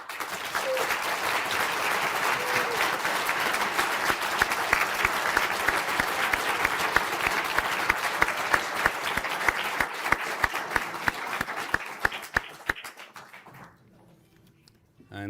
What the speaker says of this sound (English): please stand to receive a round of applause